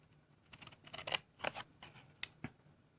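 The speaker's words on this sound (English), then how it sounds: "now I just need to come in with my snips, and I'm going to snip to the fold line" Paper card is cut to a fold line with small craft snips, a handful of close, quiet crisp snips spaced irregularly in a near-silent room.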